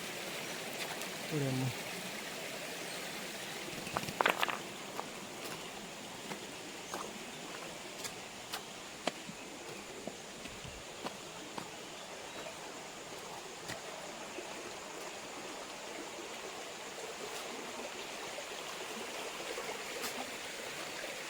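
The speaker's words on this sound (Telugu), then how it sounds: "ఈ నడుమ వాటర్ ఫాల్ ఉంది" Water from a small waterfall between hills flows in a steady, fairly quiet rush throughout, with scattered clicks and knocks and brief voices early on.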